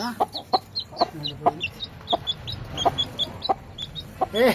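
Chickens clucking close by in a household yard, a steady run of short repeated clucks and squawks with some louder calls toward the end, no talk.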